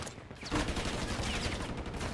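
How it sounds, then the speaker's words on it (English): Gunfire in the shooter game Call of Duty MWIII Warzone, a brief run of rapid shots ringing out at moderate distance over a dull ambient bed, with no talk. "Oh, somebody's shooting from low."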